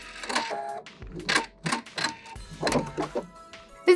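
A sewing machine back stitches at the end of a seam on a fabric coaster, a few short bursts of rapid mechanical clicking separated by brief pauses, close and alone.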